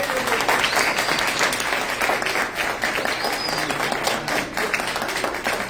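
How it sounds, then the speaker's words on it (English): An audience gives a round of applause at a civic democracy event, steady dense clapping from many hands at moderate volume, continuous for the whole stretch. "Let's give them a round of applause."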